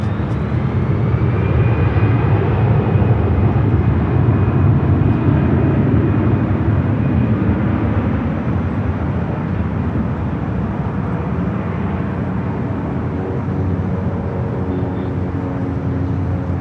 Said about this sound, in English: Another Delta A319 lined up, ready to go.